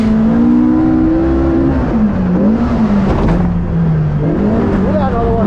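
A Polaris RZR Pro R four-seat off-road vehicle revs hard in the Glamis sand dunes, its engine note loud and close, rising and falling continuously with voices talking over it.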